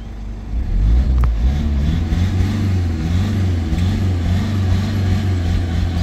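A Mercedes W220 S500 V8 engine revs steadily under light throttle, a loud, close, continuous low rumble with rising and falling engine tones throughout.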